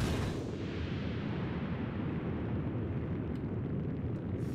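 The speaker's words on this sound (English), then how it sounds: "Big explosions." A big explosion in the video game Octodad: Dadliest Catch opens with a sharp burst, then a dense, heavy low rumble that rolls on steadily without fading.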